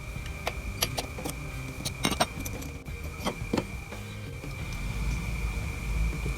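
Metal tools clink and tick against the ignition magneto of a Vespa as its bolt is loosened, scattered sharp taps and scrapes over a steady background hum, close up and fairly quiet.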